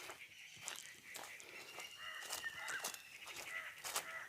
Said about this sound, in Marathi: घनदाड जंगल पक्ष्यांचा वगैरे तुम्हाला आवाज येत असन